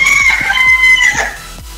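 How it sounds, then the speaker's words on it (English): Chickens cluck and crow in a pixel-art Pokemon build-off video game, a rooster-like call over a string of sharp, close clucks in quick succession, loud and alone. "Attack of the chickens."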